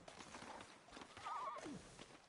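A horse in the video game Red Dead Redemption 2 whinnies in a rising, wavering call over steady hoof clip-clops and a busy ambient background.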